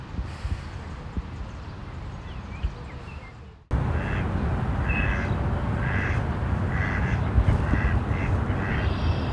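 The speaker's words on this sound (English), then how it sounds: "They're ducks. These are the male. These are mallard ducks." Male mallard ducks quacking on a lake in Minnesota, a run of repeated nasal calls over steady outdoor background noise, after a sudden jump in level partway through.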